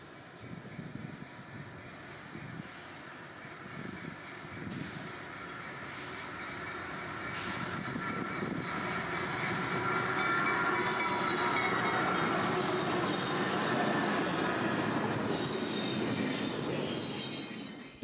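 Freight train I-177, led by an AC-44 locomotive, rolls southbound on track 2 at Ocala, Florida, a steady rumble and clatter building louder and holding, with wheels squealing on top.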